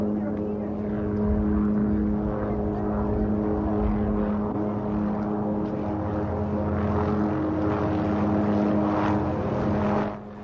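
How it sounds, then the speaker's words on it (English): Steady whirring rotor and engine drone with a strong low hum, continuous and fairly close, from a helicopter flying at about 15,000 feet near its operating limits, with faint voices underneath. "The helicopter can fly here, but it is at the limits of its operating specs."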